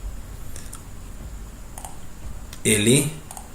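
A Print Screen key is pressed on a computer keyboard, heard as a few faint, sparse clicks over a quiet background with a short burst of voice near the end.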